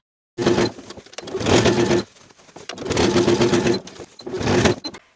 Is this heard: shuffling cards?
no